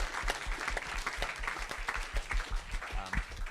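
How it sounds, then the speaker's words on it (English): Audience applause closing a morning of team project presentations at a space studies program event, a dense steady round of clapping from a full room lasting throughout. "give yourselves one final round of applause"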